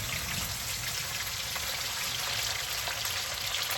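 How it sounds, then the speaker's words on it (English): Marinated beef deep frying in hot oil gives a steady, dense sizzle and crackle that holds evenly throughout, close and without talk. "Now I'm going to deep fry the marinated beef that we have."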